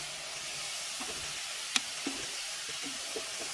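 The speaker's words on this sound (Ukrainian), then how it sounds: "буду зараз обсмажувати баклажани, перець і цибулю" Eggplant, pepper and onion frying in oil in a multicooker, a steady soft sizzle and hiss with a few faint clicks and taps, close and quiet with no voices.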